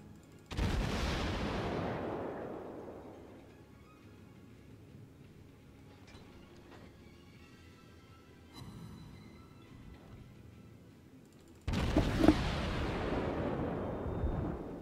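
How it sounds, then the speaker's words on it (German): Heavy naval gun salvos from the Phoenix cruiser in World of Warships, two loud booming volleys several seconds apart, each with a long rumbling decay, separated by quieter battle ambience and faint distant shots. "Vom Schießen her ist die Phoenix gar nicht mal so schlecht."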